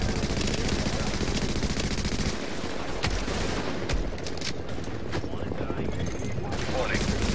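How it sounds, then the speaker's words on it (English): Gunfire from a first-person shooter video game: dense, continuous bursts of automatic weapon fire and shots fill the whole stretch, loud and close, with other game sounds mixed in. "let's shoot some bad guys."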